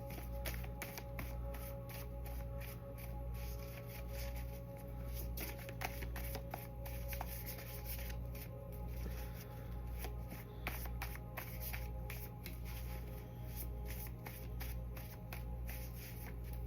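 A deck of cards is shuffled continuously for a card reading, a steady, quiet riffling and sliding that stays close and faint throughout, with no talking.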